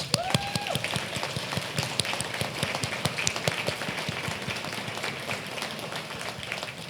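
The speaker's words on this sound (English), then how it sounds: "Can we have a round of applause?" Guests at a tribute breakfast give a round of applause, a scattered, fairly soft patter of individual claps with a brief tonal sound near the start.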